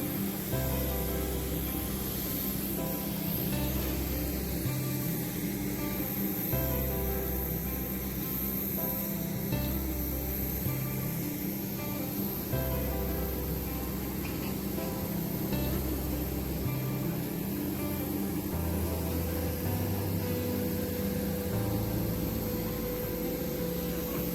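Steady broadband hum and hiss of a large indoor airport space after leaving a plane, with a low droning engine-like rumble underneath and no clear voices.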